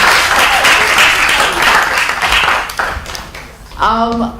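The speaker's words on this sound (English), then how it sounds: "Can you give them a round of applause just for being here?" An audience at a poetry recitation final applauds the 15 county finalists. The clapping is dense and sustained for several seconds, then fades, and a voice begins speaking near the end.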